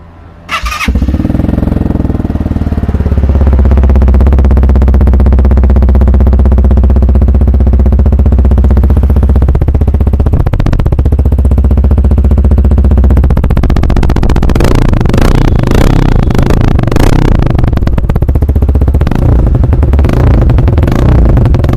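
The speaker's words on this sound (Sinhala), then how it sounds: "ඉතින් අපි බලමු බයික් එකේ exhaust note එක කොහොමද කියලා." A NICOT supermoto-style motorcycle starts up and idles with a deep, loud exhaust note, then revs repeatedly in sharp bursts toward the end, close to the microphone and with no talking.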